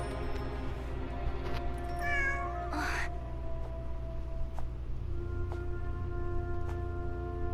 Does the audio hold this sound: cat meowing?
yes